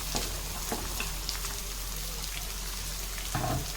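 Chopped onions fry in oil for jackfruit biryani. A steady, moderately loud sizzle is heard, with a few sharp clinks and scrapes of stirring and a low hum underneath.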